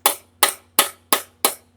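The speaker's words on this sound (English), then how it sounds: "You just taking a straight hammer to it now and just putting the finishing touches on it there." Six evenly spaced, loud strikes of a straight hammer on a truck rear axle, each a bright ringing clank that fades quickly, in a steady rhythm close by.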